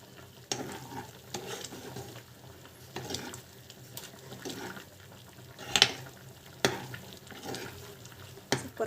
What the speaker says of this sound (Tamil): பாருங்க, சூப்பராக வந்து கொதிக்குது